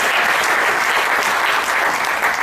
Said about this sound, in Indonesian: Ya, tepuk tangan paling mulia untuk kita.